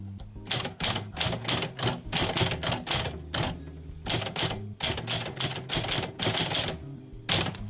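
Keys striking paper on a Smith Corona typewriter as a sentence is typed, close and crisp in irregular bursts of clacks separated by brief pauses, with no voices.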